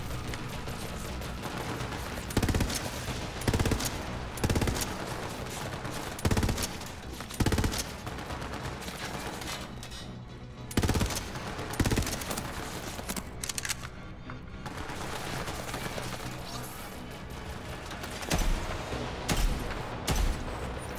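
Sniper rifle shots boom one at a time at uneven intervals in the video game Borderlands 3, loud and punchy over a constant busy backdrop of game noise and effects.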